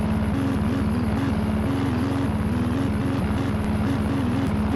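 A propeller airplane drones through the game Dude Theft Wars, a loud, steady buzzing engine hum with a slightly wavering pitch that holds throughout without a break.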